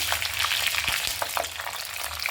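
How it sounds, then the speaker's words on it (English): Green and red chilies sauté in hot oil in a pan, giving a steady, close sizzle and crackle throughout with no talking. "And we will just saute it like this"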